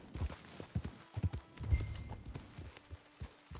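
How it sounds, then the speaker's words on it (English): Horse hooves clip-clop in the video game Red Dead Redemption II, a series of soft, uneven hoof strikes at close range that slow and settle as the horse comes to a stop, with light ambient background. "Okay, let's go ahead and hitch you up here, horse."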